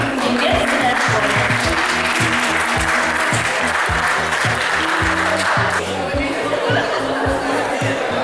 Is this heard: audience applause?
yes